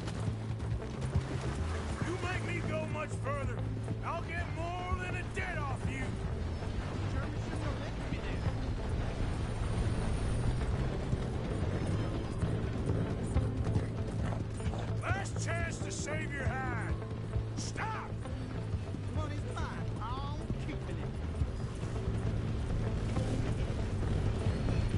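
A horse gallops in Red Dead Redemption 2, its steady hoofbeats drumming continuously along with creaking tack and rolling ambient game sound, with a possible whinny and voices now and then.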